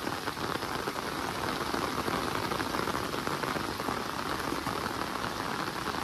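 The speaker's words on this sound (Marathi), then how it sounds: "आणि पाऊस असा लागतोय भारी" Heavy rain pours steadily in the Konkan countryside, a dense, unbroken hiss of drops striking water and ground, loud and close with no voices.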